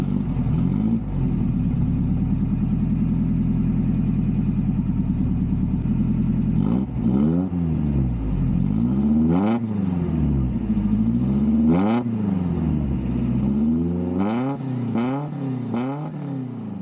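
Toyota 22RE truck engine with a new 2.25-inch exhaust, header, catalytic converter and perforated muffler, idling with a deep steady rumble, then revved in several rising and falling bursts, loud and close.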